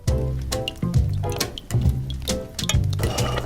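Sugar, syrup, milk and water are stirred in a small saucepan, giving close, repeated wet swishes and sloshing scrapes in an irregular rhythm.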